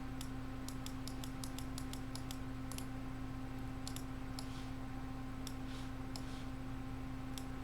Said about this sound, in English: Well, I shuffled it.